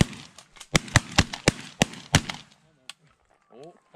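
Shotgun blasts during a goose hunt ring out in a rapid volley of about eight loud, sharp reports within two seconds, followed by quieter sounds that may be goose calls or voices.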